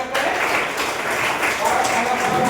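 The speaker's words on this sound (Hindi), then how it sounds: "एक बार तालियों से स्वागत करें।" Audience clapping fills a quiz-show stage to welcome a contestant, steady and dense for a couple of seconds with a voice faintly mixed in.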